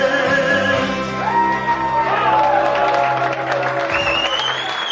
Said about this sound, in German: Ihr lacht und klatscht